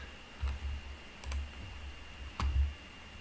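A few sparse keystrokes on a computer keyboard as a search is typed into a browser window: isolated soft clicks, close and faint, with long pauses between them.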